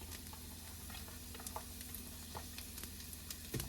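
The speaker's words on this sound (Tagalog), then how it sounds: "mainit ng ating oil. So we go ahead, put our garlic." Garlic frying in hot oil in a pan, a steady close crackling sizzle with scattered sharp pops and light stirring clicks throughout, with no voices.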